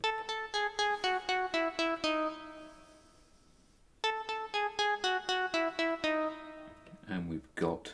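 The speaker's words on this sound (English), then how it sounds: "Instruments on this one is pulse bass 1 on analog 1, which sounds like this." Roland JD-Xi synthesizer playing its pulse bass patch on the analog part: a series of short, bright, evenly pulsed notes forming a repeating melodic line, a pause, then the pattern again, ending with a brief voice.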